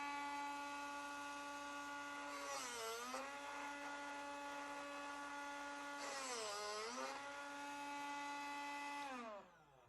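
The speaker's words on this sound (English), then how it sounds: "That's all there is to sharpening bits with Drill Doctor." Drill Doctor 500X/750X bit sharpener grinding a drill bit: a steady high motor whine runs throughout, dipping and swelling in pitch twice as the bit is turned against the wheel, then winding down at the end.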